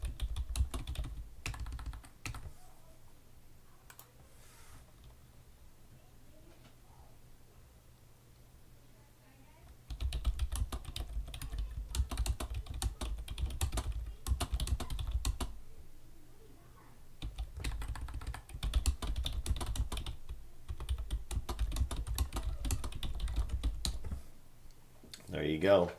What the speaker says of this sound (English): Sorry, I was typing all that in there.